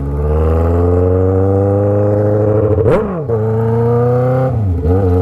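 A Honda Hornet motorcycle with a stainless steel exhaust idles loudly nearby with a raspy exhaust drone and a slight compression leak, interrupted by two short throttle blips, one around the middle and one near the end.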